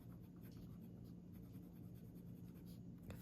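A Platinum 3776 fountain pen with a medium nib, inked with Robert Oster Black Violet, makes a faint, soft, continuous scratching as it writes on paper, very quiet and close.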